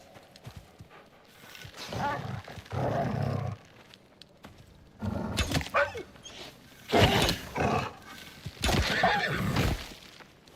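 Horses in the survival video game Icarus neighing and whinnying in repeated loud bursts with pauses between, along with hoof clops and scuffling.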